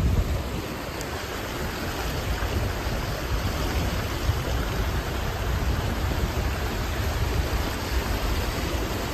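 Floodwater rushes through a street in Cainta, Philippines, during Typhoon Carina, making a steady, dense, broadband hiss and roar that never lets up, with no voices.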